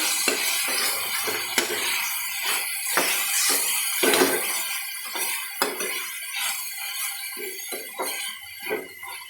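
Noodles are stirred in a pan with turmeric just added, giving repeated metallic scrapes and clinks of a utensil against the pan over a steady sizzle, close and fairly loud, with no talk.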